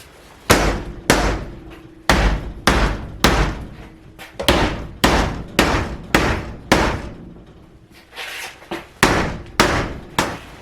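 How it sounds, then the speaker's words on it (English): Repeated heavy hammer blows knocking out an old window, about a dozen sharp, loud strikes in an irregular rhythm with brief pauses, some with a glassy or wooden rattle. "I'm graduating to a bigger hammer and forgetting the block of wood"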